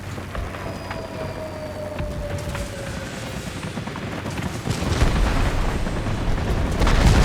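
Heavy 500-pound bomb blasts in the World of Warplanes aerial combat game: a dense rumbling roar under a steady engine drone, growing louder toward the end.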